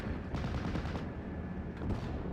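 MG42 machine gun fire in a World War II strategy game, with rapid bursts of gunfire crackling over dull battle rumble, moderately distant and steady.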